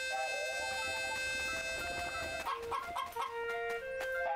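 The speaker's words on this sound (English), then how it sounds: "Chicken!" Chickens cluck in the video game Blue Dragon, a series of short, repeated fowl calls set over a steady tonal game music background. The calls are fairly faint and no one talks.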